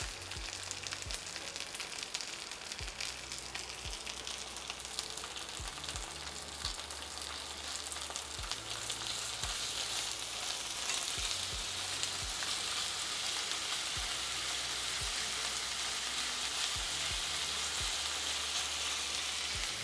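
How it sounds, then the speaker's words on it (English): Paella valenciana sizzles and fries steadily in a pan, a dense continuous crackle with faint stirring scrapes, close and fairly loud throughout, with no talking. "The sizzle ASMR."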